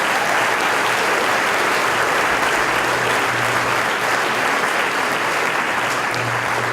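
Applause from a school awards ceremony audience for the top student, steady and dense clapping throughout without a break, filling the hall at full volume with no talk over it.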